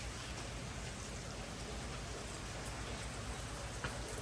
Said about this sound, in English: It is raining and I'm already soaked.